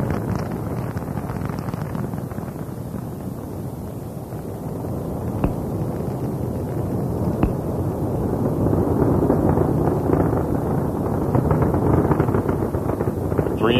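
Space Shuttle Columbia's three main engines throttled down during launch ascent, a continuous broadband roar with heavy rumbling low end, steady and loud throughout with crackling texture and no break.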